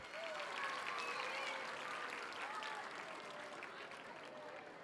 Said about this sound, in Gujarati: તો આપણા ઝરણાબેન માટે એકવાર જોરદાર તાળીઓ થઈ જાય.